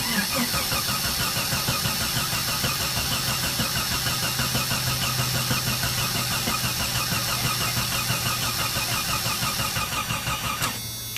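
A Jeep engine cranks and churns loudly and continuously at close range, rough and uneven throughout, failing to start properly, with a brief change near the end.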